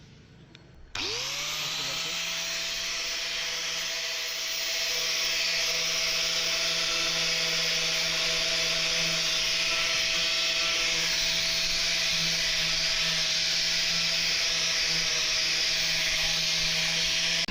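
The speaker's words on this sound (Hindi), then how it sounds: "मैंने घिसाई करने के लिए मैंने ग्राइंडर के ऊपर ये डिस्क लगा रखा है, और डिस्क के ऊपर ये पैड लगा रखा है" An angle grinder fitted with a sanding pad disc runs steadily as it sands a carbon fiber car body kit, a loud continuous whine with a low hum that starts after a second and holds without pause.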